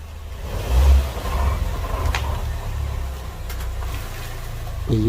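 Rear differential on a moving 2015 Chevy Equinox, a low steady drone and hum under road and engine noise, with faint brief squeaks midway and no talking.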